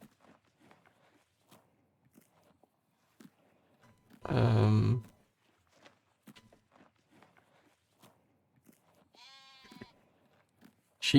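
A sheep in Farming Simulator 19 lets out one loud bleat amid quiet footsteps and crunching, followed later by a fainter, higher bleat in the distance.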